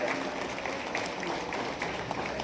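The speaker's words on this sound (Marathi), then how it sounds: "पुन्हा एकदा जोरदार टाळ्या" Audience applause at an anniversary celebration event, a dense, even patter of many hands clapping at a moderate distance, continuous and fairly soft throughout.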